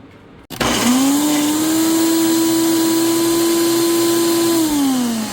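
An electric blender grinding garlic, chilies and water into a paste runs loud and steady with a high motor whine after a brief click to start, then winds down at the end.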